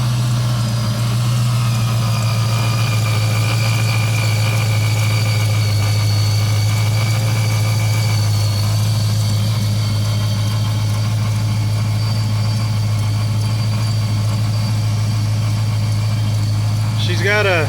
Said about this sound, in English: that noise you hear is a supercharger